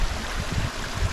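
Water runs steadily through a culvert beneath a road, a continuous close gurgling rush with low churning, no voices.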